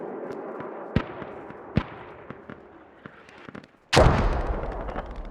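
Mortar and gunfire in the military shooter game Squad: sharp shots crack at intervals over a low rumbling battle backdrop, then a loud, close mortar blast erupts and booms as it fades.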